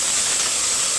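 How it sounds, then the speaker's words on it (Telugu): Mustard seeds and onions fry in hot oil, a dense, even hiss and sizzle that stays steady and close throughout the short burst. "ముందుగా ఆయిల్ వేసి ఆవాలు ఎర్రగడ్డలు వేసి గోల్డ్ కలర్ వచ్చే వరకు ఫ్రై చేయాలి"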